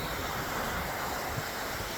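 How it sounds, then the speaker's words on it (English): Ocean waves crashing on a shell-strewn beach, a continuous broad wash of surf with wind-like hiss, steady and fairly loud, with no voices. "Some are being covered and uncovered by the waves as they crash in."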